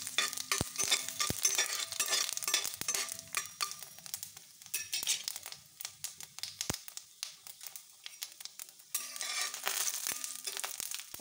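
Dried red chillies and whole spices crackle in hot oil in a pan, a steady dense sizzle with stirring scrapes and a few sharp clicks, fairly close and alone, easing briefly near the end before the sizzle returns.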